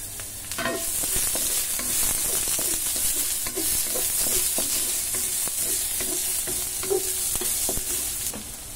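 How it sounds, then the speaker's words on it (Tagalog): Garlic and onion sautéing in a hot pan give a steady, close sizzle with repeated scraping stirs throughout, and no one speaks. "Bibisa na tayo guys ng bawang, sibuyas,"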